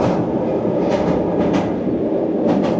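A Tashkent-to-Bukhara high-speed train in Uzbekistan rolls steadily with a loud, continuous rumble and rhythmic clatter of wheels on track, heard from inside the carriage.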